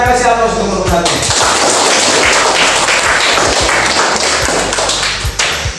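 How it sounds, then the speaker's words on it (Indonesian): A classroom audience applauds a presentation group, a loud dense burst of clapping that holds for several seconds before thinning out, with a voice speaking briefly at the start. "Kita kasih aplaus untuk kelompok 1."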